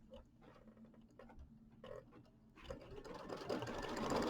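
A home embroidery sewing machine stitches a placement line on quilt body fabric, a soft rapid needle chatter that starts hesitantly, then builds into a louder, steady whirring run.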